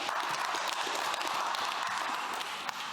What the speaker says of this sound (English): Give a round of applause for Kate.